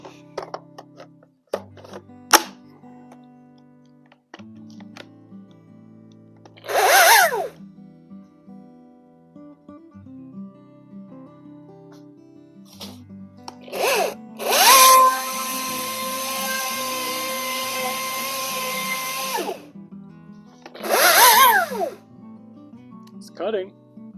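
A troublesome chainsaw at a rural property revs in short high-pitched bursts, then runs for several seconds cutting wood before dropping away, with sputtering and quieter idle between runs and people talking nearby.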